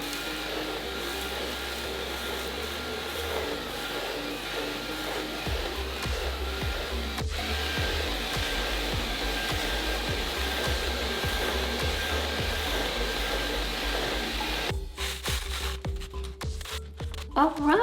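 Dyson Gen 5 Detect cordless vacuum cleaner switched from auto to boost mode, a steady loud motor roar close by that shifts and rises partway through, with debris rattling up the wand near the end.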